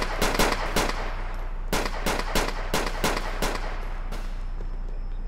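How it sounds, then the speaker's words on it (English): A rapid volley of gunshots rings out in a police patrol video game, loud sharp cracks fired in quick clusters over several seconds with short gaps between bursts. "Oh no, we got shots fired. Multiple shots fired."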